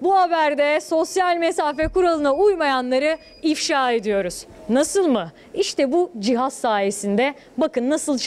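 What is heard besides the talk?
No everyday noise stands out behind the speech.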